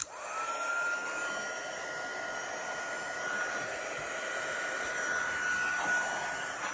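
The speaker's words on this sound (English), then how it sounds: "So I'm going to go ahead and bring my heat tool around. I'm going to start it on up." An embossing heat gun used for card making starts up and blows a steady, loud airy whoosh with a thin whine running through it, held close for the whole stretch with no speech.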